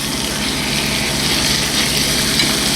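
Pork tenderloin browning in a pan over medium heat makes a continuous close sizzle with faint stirring noise.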